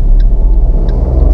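A car's engine labors at full throttle while pulling away on a very steep uphill street in Bogotá, a steady low rumble held close and loud for the whole moment with no voices.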